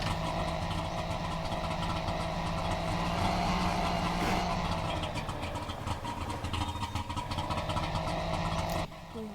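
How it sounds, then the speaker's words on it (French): Steady engine drone from a car underway on a drive, a continuous low rumble with hum throughout, ending with a brief shift near the end; no talk over it. "sinon on va entendre que le bruit du moteur"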